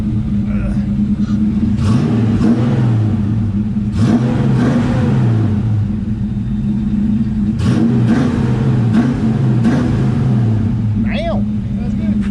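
A Ford Mustang GT with a new exhaust revs repeatedly, a loud rumbling engine swelling and easing in waves, with people talking over it.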